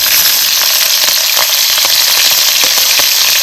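Green chilies frying in hot oil in a kadhai give off a steady, close, loud sizzle with crackling pops throughout, no voices present.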